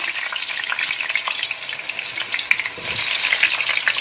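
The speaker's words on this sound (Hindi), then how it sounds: "इसके अंदर 5 से 10 मिनट तक हम इसको फ्राई करेंगे आलू को।" One kilogram of potatoes frying in hot oil for an aloo gobhi dish makes a loud, dense, continuous sizzle, broken by occasional stirring scrapes and a brief clatter near the middle.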